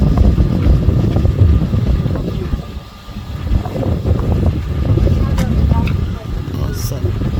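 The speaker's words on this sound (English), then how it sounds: "It's very windy, very beautiful." Strong wind buffets across a ship's deck out on the open ocean, a loud, gusting roar of rumbling noise that swells and eases, with a brief lull midway.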